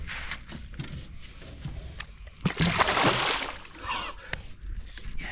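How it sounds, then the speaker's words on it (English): A Murray cod is released into lake water at a fishing tournament, making a short close splash and sloshing among fainter water noises. "place him in the water, don't throw him"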